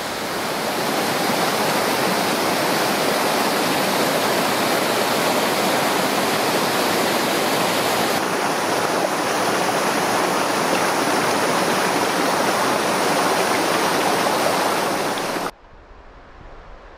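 Creek water rushes steadily and loudly, a dense broadband wash close by that holds for about fifteen seconds before dropping away to a faint background near the end, with no talk.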